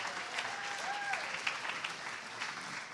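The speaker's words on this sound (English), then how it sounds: "Let's have a big round of applause for them" Applause from the audience at a charity fundraiser gala, a steady sustained wash of clapping across the whole stretch with a few brief whistles rising above it.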